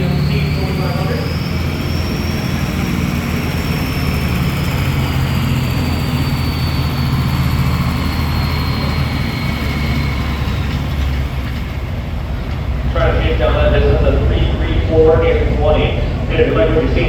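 A 2007 GMC 2500 diesel truck in the local diesel class at a Michigan fair truck pull, its engine a steady loud drone under an announcer's voice, with a rising roar and rattle near the end.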